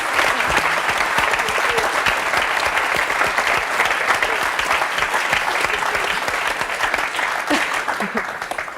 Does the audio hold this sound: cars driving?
no